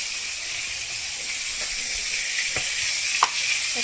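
Fried fish pieces in a pan with water just added, giving a loud, steady hissing sizzle with a few faint clinks, close and without talk.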